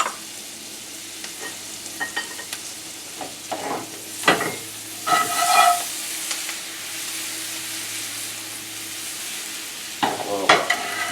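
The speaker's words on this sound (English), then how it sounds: "So what I want to put in here now, some shallots in this butter." Finely chopped shallots dropped into nutty brown butter, frying with a steady close sizzle while a few sharper scrapes and clatters of stirring break in midway and again near the end.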